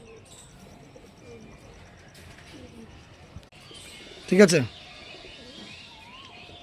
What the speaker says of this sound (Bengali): এটা হচ্ছে নর পায়রা, খুব সুন্দর জোড়া আছে